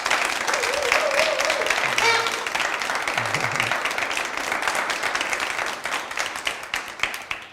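An audience at a French business competition selection applauds, a dense sustained clapping that fades slightly toward the end, with a voice speaking briefly over it.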